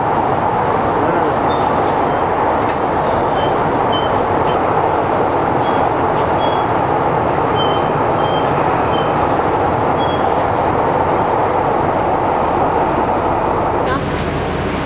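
A Delhi Metro train rumbles steadily at Green Park station, with faint high squeals and beeps over a constant loud roar of the carriages.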